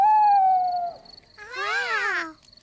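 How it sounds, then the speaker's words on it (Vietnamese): A cartoon owl at a nighttime campsite gives a long, sustained hoot, then after a short pause a louder, wavering, trembling call before fading out. "Là tiếng chim cú."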